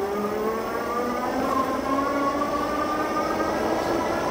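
A dual-motor Shengmilo S600 ebike climbs a steep hill on throttle alone at full level-5 power. Its close, continuous motor whine climbs steadily in pitch as it accelerates, with wind noise underneath.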